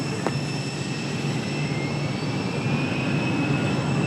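Airbus A321 jet at Raleigh Durham airport, a steady broad roar with a faint high whine, holding even and moderately loud throughout with no voices.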